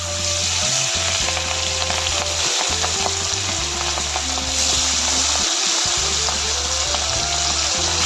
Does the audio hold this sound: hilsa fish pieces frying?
yes